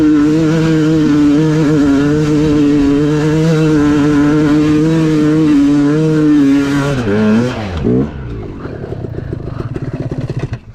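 A Yamaha YZ250X two-stroke dirt bike engine screams loudly at high revs on a hillclimb, holding a steady wide-open drone before the throttle drops and the pitch falls sharply, then it burbles and picks back up.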